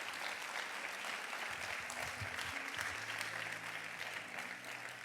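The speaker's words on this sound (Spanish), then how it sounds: "Vamos a dar un aplauso fuerte al Señor" Church congregation applauding loudly and steadily throughout, a dense wash of clapping in a worship service, with a low musical drone or keyboard tones sustained underneath.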